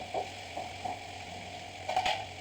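Tomato added to pumpkin palya frying in a pan gives a steady, faint sizzle with a few soft stirring clicks and scrapes. No voices.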